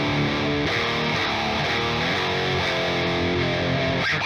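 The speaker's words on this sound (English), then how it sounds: "We're getting much more grindy and chainsawy now" Heavy, grindy distorted electric guitar through an Audiority Heavy Pedal on its MIJ Japan setting plays chugging palm-muted riffs for several seconds, a loud saturated tone with no talk.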